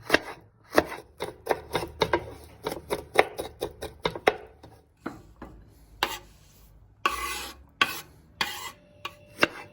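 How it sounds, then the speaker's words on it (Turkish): A knife chops capia peppers finely on a cutting board in quick, crisp, close taps that come in rapid bursts, with short pauses between runs of strokes. "İki adet kapya biberimizi ince ince doğruyoruz."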